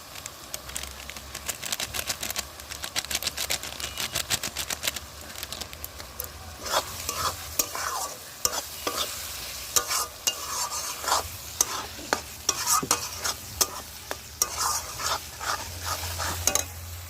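Spice paste of chilli and cumin powder frying and being stirred in a pan for Bengali chicken kosha, a steady close sizzle under repeated scraping strokes that grow sharper and more frequent toward the end.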